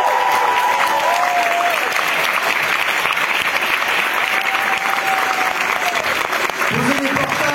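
Loud, sustained applause from a large audience at the Cannes Film Festival fills the whole stretch, steady clapping with a crowd murmur and a few voices mixed in.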